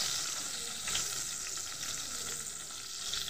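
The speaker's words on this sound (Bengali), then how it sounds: "না ঢাকা দিয়ে বেগুনটাকে এইভাবে সুন্দরভাবে ভাজবো" Eggplant fries uncovered in a pan of oil, a dense steady hiss and sizzle throughout with light crackling, close and fairly loud, without talk.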